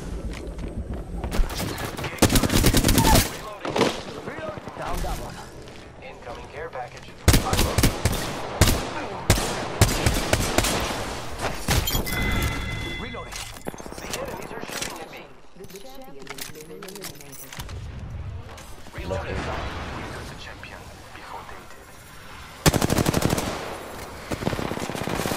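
Automatic gunfire in the Apex Legends video game: repeated loud bursts of rapid shots in clusters, with quieter gaps between them, mixed with other game sounds and a voice talking at times.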